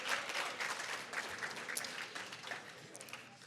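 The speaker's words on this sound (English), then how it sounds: "So if we could have a round of applause for them, that'd be wonderful." Audience applause at a science conference session, a steady fairly faint patter of many hands clapping throughout, heard from some distance.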